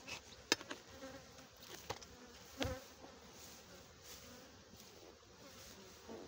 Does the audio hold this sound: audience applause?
no